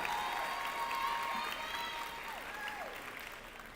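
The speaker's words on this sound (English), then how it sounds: "Give yourselves a round of applause." A round of applause for a graduating high school class at a commencement ceremony, a broad wash of clapping from a large crowd that gradually fades, with faint voices mixed in.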